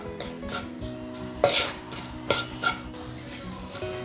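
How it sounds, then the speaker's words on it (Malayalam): Shallots and garlic sautéing in a pan for a tamarind fish dish, with several metallic spatula scrapes and clinks against the pan over a low background sizzle, close and fairly quiet. "നമുക്ക് നന്നായിട്ട് ഇതൊന്ന് വഴറ്റിയെടുക്കാം"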